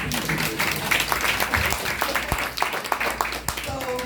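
An audience claps in a dense, steady burst of applause at a community event, with voices and cheering mixed in throughout.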